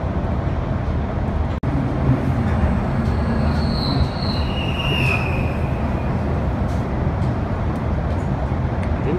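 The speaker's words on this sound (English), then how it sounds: "We're now hunting for a quad loco freighter" A quad-locomotive freight train rolls past at close range, loud and continuous, with rumbling wagons, rattling wheels and brief high-pitched wheel squeals over the steady roar.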